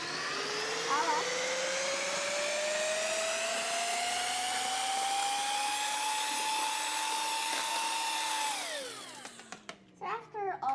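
An electric mixer runs steadily, blending warm butter into bread dough ingredients for Hawaiian bread, a loud continuous motor whine that rises slightly in pitch, then winds down and stops near the end.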